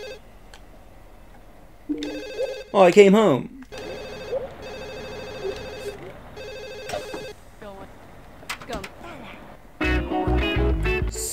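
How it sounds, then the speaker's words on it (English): A telephone rings in the video game The Sims Bustin' Out, with repeated electronic ring bursts at a steady pace under a brief spoken line, plus other game sounds and music. "Okay, ignore that and go answer the phone."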